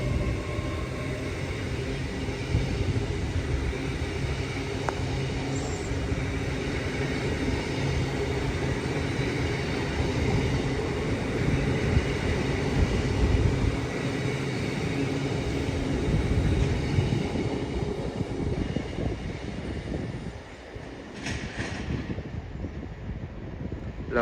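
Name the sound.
train passing through Peterborough station on the East Coast Main Line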